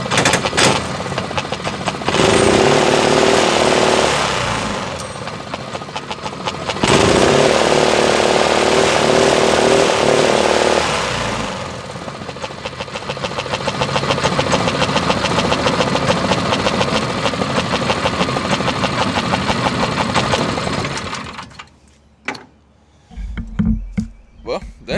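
A 6.5hp mud motor engine fitted with a custom muffler revs loudly in close, sustained bursts with brief dips between them, then cuts off near the end, leaving quieter clatter.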